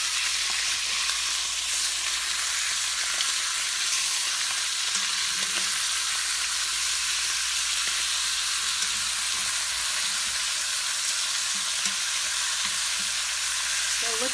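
Osso buco frying in a pan on a keto recipe without garlic or onion, a steady broadband sizzle holding evenly throughout with faint scrapes as the meat pieces are turned, no talking.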